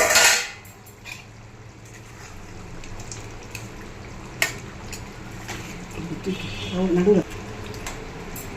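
A lid lifted off a pot of mutton gravy, giving a brief metallic clatter near the start, then soft cookware clinks and a low simmering sizzle beneath faint background noise.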